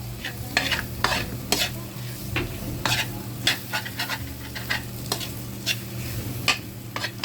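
Miso browning in reused frying oil for bangus sinigang, stirred in a pan: a continuous low sizzle with frequent scraping spatula strokes, moderately close and fairly quiet.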